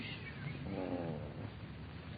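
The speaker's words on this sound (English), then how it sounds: "don't purr so loud" A cat purrs with a low, soft rumbling drone in a radio drama, quiet and steady for a couple of seconds.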